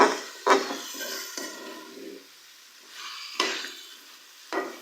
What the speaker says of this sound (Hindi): अब हम इसे थोड़ा सा भून लेंगे।